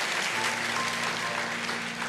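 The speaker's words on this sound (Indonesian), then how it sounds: "Iya, kasih tepuk tangan, itu loh yang berani kayak begitu." A church congregation claps together in a dense, even burst of applause, sustained and fairly loud throughout the short span, with no voices standing out.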